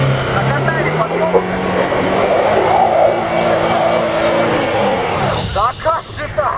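Car engine revving hard while climbing a slope after a short run-up, the pitch rising and straining close by before dropping off, with tyre scrabbling near the end and a voice talking over it.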